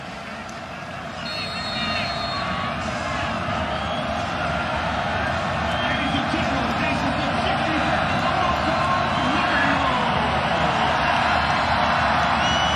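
A big stadium crowd at the Liberty Bowl in Memphis, Navy against Kansas State, roars steadily through the opening kickoff, a dense rising rumble of cheering that swells and holds loud throughout.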